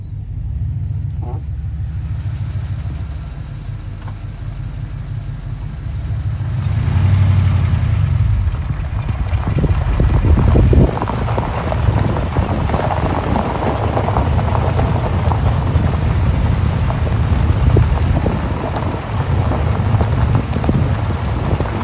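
A Chevy Silverado truck with an LQ9 engine and NV4500 transmission driving in four-wheel drive after a front differential replacement, a steady loud low engine rumble with road noise that rises after a few seconds and holds throughout.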